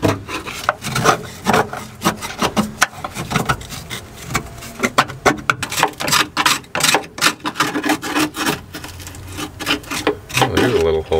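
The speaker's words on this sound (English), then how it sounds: "Scraping up poop mud." Scraping and rubbing at rat droppings and mud inside a rat-nested old Datsun 280Z barn find, a dense run of rough, irregular rasping strokes close by, with brief speech-like sounds mixed in.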